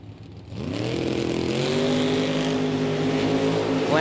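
Drag racers launching side by side, a GTO and a 1964 Chevelle at a bracket race, engines roaring loud and close as revs climb steadily and hold a sustained rising drone to the end.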